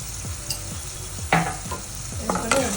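Turmeric powder and salt frying in a pan for lemon rice, with a soft steady sizzle, a few sharp scrapes and stirring clinks of a utensil against the pan, close and moderately loud.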